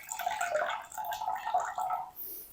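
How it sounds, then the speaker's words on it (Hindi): Starchy water from grated potatoes pours off into a bowl, a soft, uneven trickle and splash for a couple of seconds, fairly faint and close. "सारा जो पानी है ना वो हम स्टार्च वाला निकाल देंगे इस तरीके"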